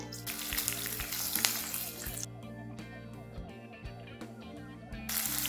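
Mustard seeds, asafoetida, green chillies and curry leaves sizzle in hot oil for kanda masala poha, a steady loud frying hiss with crackling spatters that briefly eases then swells again.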